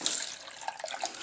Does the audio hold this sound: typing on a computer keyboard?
no